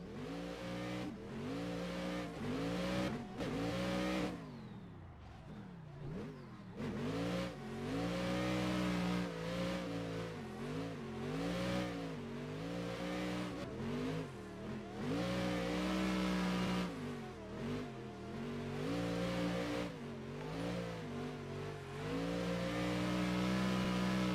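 A Toyota Supra engine revs in a racing video game, rising and falling through repeated gear changes over a steady drone, continuous and fairly close throughout.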